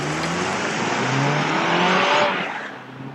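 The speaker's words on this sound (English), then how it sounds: "looks like this off the line when in sport mode" A 2025 Honda CR-V Hybrid with all-wheel drive and 247 pound-feet of torque accelerates hard from a standstill in sport mode. A steady, rising engine and road roar builds close by, then eases off near the end.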